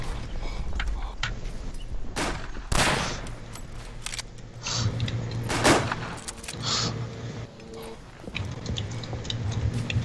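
Artillery fire in a video game, a series of sharp booming blasts and crackling impacts scattered irregularly over about ten seconds, mixed with mechanical clatter and game background noise.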